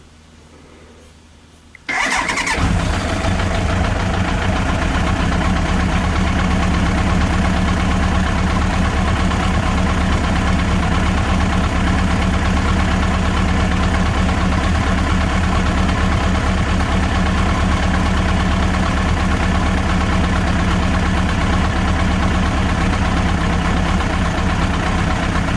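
A car engine cranks and catches after a quiet start, then settles into a loud, steady idle for the rest of the time after its oil has been drained and refilled, with no voices.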